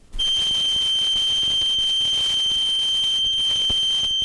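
A pure, steady test tone of 3,120 cycles per second sounds continuously and loudly, with a thin background hiss, as a pitch demonstration from Bell Labs.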